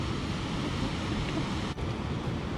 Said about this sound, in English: Water coming down the River Leven.